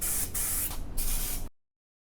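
Close aerosol spraying coats the underside of a custom swing-out tire carrier on an SUV, three loud hissing bursts separated by short breaks before cutting off into silence.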